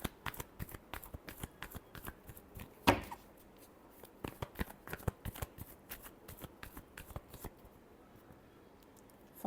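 Tarot cards are given a final shuffle, a close, rapid run of papery riffles and flutters that crackle on steadily for several seconds, with one sharper burst early on and no voices.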